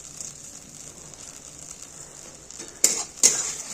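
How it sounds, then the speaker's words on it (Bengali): Masala gravy with yogurt for whole hilsa fish cooking in a pan, a soft steady sizzle punctuated near the end by two sharp scraping stirs of the spoon. "যতক্ষণ না তেল ছেড়ে আসছে ততক্ষণ আমি এইভাবে একটু নাড়াচাড়া করে নেব"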